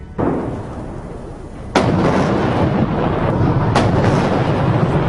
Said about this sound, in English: A 70-gun salute in Tiananmen Square to mark the end of the war with Japan